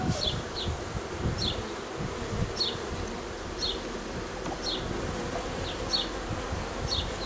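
Honeybees crawl over hive frames from a small Miniplus hive, a steady close buzzing drone with repeated short rising whines of individual bees passing near, no talk.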